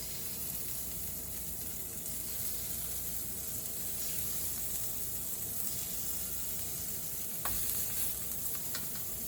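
Oiled, seasoned shrimp sizzle steadily on a hot griddle, a constant dense crackle and hiss throughout with a few brief clicks near the end and no voices.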